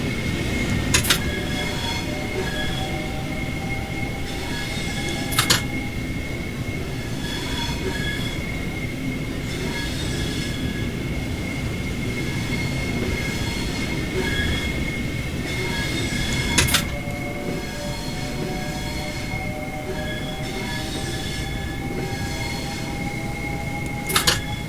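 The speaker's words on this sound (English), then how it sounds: "it's actually gone over because you can hear the motors this time" Class 465 electric multiple unit on the Gravesend to Rochester line in Train Sim World 2, with a steady motor hum and rolling rumble and a few sharp wheel clicks or squeals at intervals, no voices.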